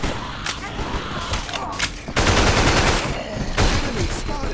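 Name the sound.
gunfire in a zombie video game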